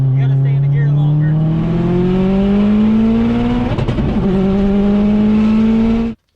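A Subaru's engine strains hard under acceleration, its loud, close tone climbing steadily through a gear, dipping briefly at a shift, then climbing again before cutting off abruptly.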